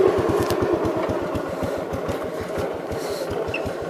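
A 1969 Gravely 430 walk-behind tractor's small engine idles after a carburetor adjustment, thumping in a steady, fast, slightly uneven rhythm, loud and close with no voices.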